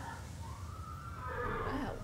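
A horse whinnies in the Star Stable video game: a rising, wavering neigh that swells to a close, loud call over a steady low rumble of background game sound.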